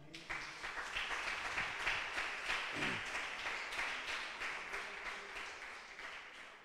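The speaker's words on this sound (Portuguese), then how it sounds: "Vamos agradecer a Deus com a linda sala de palmas." A church congregation gives a round of applause, a moderate, fairly even patter of many hands clapping that carries on throughout at a modest distance.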